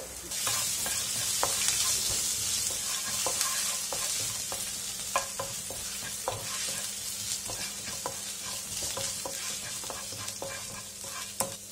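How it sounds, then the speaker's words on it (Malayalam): Ginger sizzles steadily in hot oil in a pan for a vermicelli upma, with frequent scraping clicks from a spoon stirring it throughout. "ഇതിലേക്ക് നമുക്ക് എടുത്തു വെച്ചിരിക്കുന്ന ഇഞ്ചി ചേർക്കാം"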